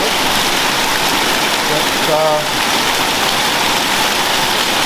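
Rain falls outside beneath the overhang of the eaves, a dense steady hiss of water close by, with a brief spoken word partway through.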